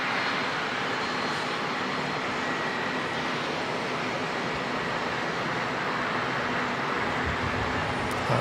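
An aircraft that has just landed at Auckland Airport, a broad steady jet roar rolling on from a distance with no clear peaks, continuous and fairly loud throughout.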